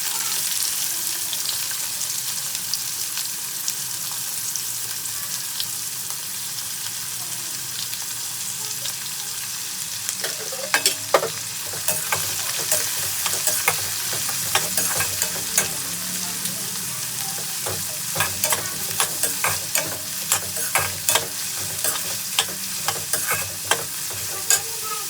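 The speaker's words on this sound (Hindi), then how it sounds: "थोड़ा सा गोल्डन ब्राउन होने तक भूनेंगे" Onions and cumin seeds fry in a pan with a steady close sizzle, broken midway by repeated scraping and clinking as they are stirred.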